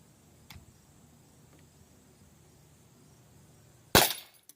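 An Umarex T4E .50 caliber pistol fires metal shot at an outdoor target, giving one sharp, loud pop near the end after quiet background, with a faint earlier click.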